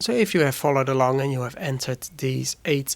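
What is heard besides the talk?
None of the usual background noises is heard.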